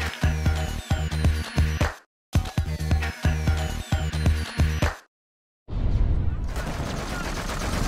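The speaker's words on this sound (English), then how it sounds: "In addition to the gunfire and indiscriminate attacks." Bursts of rapid automatic gunfire rattle out loudly in a war zone, two long volleys separated by brief silences, then a dense rumbling roar of distant shooting and noise follows.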